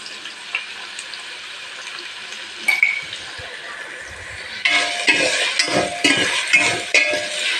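Onions sautéed with salt in a pan give a soft steady sizzle, then stirring starts and brings a louder clattering, scraping rush of frying and stirring, close and alone.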